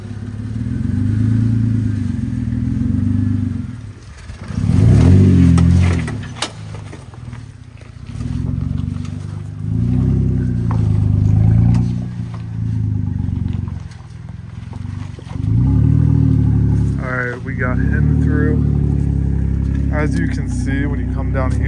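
An off-road vehicle climbing a large rock face at Windrock Park, its engine surging and revving in repeated loud bursts while the tires scrabble and clatter on the rock. People talk over the noise.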